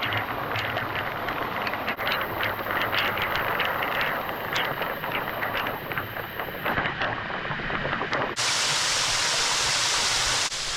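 A waterfall pours continuously as a broad, steady rushing roar. It is close and loud, with gusts of wind buffeting the microphone.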